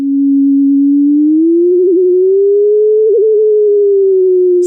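A pure synthesizer sine tone steered by a motion sensor glides slowly upward in pitch between 220 and 440 Hz, wobbling with small shaky jitters along the way, steady and loud with nothing else audible.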